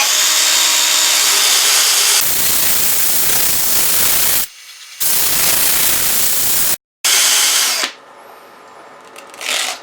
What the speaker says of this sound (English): we're going to use an Abernet sanding disc to cut it back to raw wood